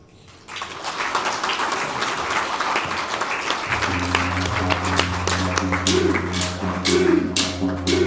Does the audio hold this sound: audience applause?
yes